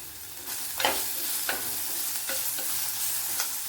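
Curry leaves and a few dried red chillies fry in a pan, a continuous close sizzle broken by several soft scraping stirs of a spoon, with no voices.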